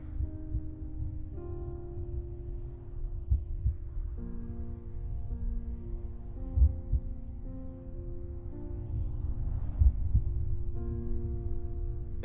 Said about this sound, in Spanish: es el latido del corazón, palpitante.